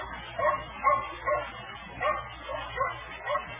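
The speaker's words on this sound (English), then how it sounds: "a dog was barking" A lone dog barks from the far end of a small town at night, a string of about seven short, muffled woofs coming at a steady rhythm, faint and distant, with no talk over them.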